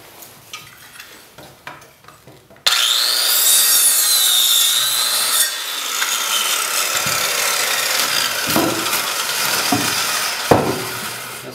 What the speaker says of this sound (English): all you're going to do is make two cuts, one on this side and one on this side